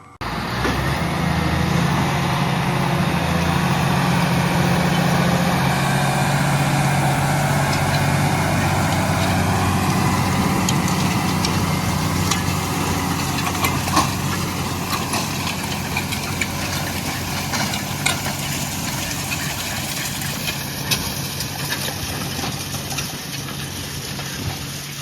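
Farm tractor with a seed drill, its diesel engine idling in a steady deep rumble, then pulling away with a rising, continuous drone, loud and close throughout.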